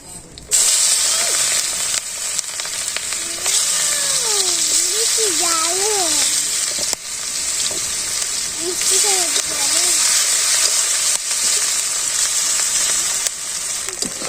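Bay leaves and cumin seeds fry in hot oil in a village home kitchen, a loud steady sizzle and hiss running throughout, with a voice talking over it at moments.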